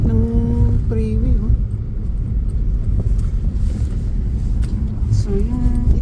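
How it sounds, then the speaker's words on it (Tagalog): Freeway traffic toward San Francisco rumbles steadily as heard from inside a moving Tesla, a dense low road roar with brief tonal chimes or navigation voice prompts at the start and end. "traffic ng freeway"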